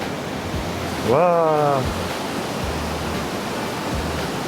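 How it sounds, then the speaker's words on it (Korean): A waterfall swollen by heavy rain in a mountain village roars in a dense, loud, unbroken rush, while a man gives a long drawn-out exclamation over the torrent. "이 폭포 물량 많은 거"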